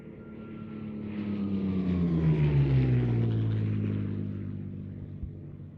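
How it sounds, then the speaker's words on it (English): A post-war, Spanish-built Hispano Buchon with a Rolls-Royce Merlin 500 engine flies past, its propeller drone swelling to a loud peak mid-pass and then falling away in pitch as it recedes. No one speaks. "post-war Rolls-Royce Merlin-powered, Spanish-built Hispano-Buchon"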